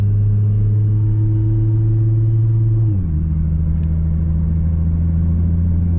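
A car engine on South Limburg roads rumbles loud and close. Its tone holds steady, then drops as the car shifts or eases off, and it carries on at a lower pitch.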